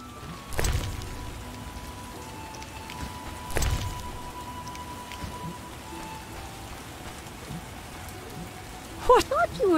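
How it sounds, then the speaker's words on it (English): Steady rain in The Witcher video game patters on a surface throughout, with a couple of low thumps and a brief cluster of sharp chirping tones near the end. "It'll rain a while."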